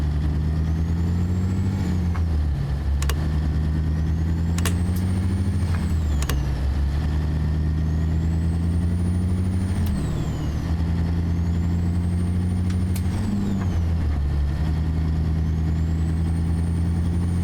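Big rig truck engine in American Truck Simulator revving high in repeated cycles, pitch climbing then dropping with sharp air brake hisses between, steady and loud with no talk.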